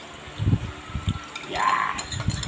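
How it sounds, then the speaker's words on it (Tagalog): Homemade marinade poured over pork for tocino in a home kitchen, a close wet trickle and splash with a few soft dull knocks, running steadily for a couple of seconds. "Tapos ilalaglag na natin ang ating ginawang marinade."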